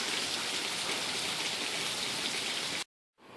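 Steady rain falls as a dense, continuous hiss of drops on surfaces, loud and unbroken for several seconds before cutting off abruptly into silence.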